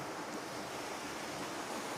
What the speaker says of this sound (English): Oh, there's a little stream here. You can maybe hear the water coming down.